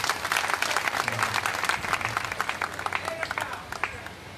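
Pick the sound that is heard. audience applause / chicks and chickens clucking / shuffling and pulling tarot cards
audience applause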